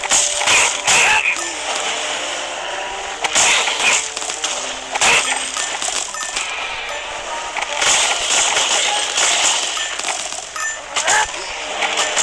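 Explosions and crashing bursts from the mobile game Minecraft Dungeons, repeated sharp blasts scattered through a busy stream of loud game effects and clatter.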